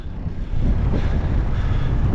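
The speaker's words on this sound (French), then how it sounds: "Vent en pleine face, 50 km/h, il pleut un peu" Strong 50 km/h headwind with light rain buffeting the microphone while cycling, a constant low roar, loud and unbroken, no voices.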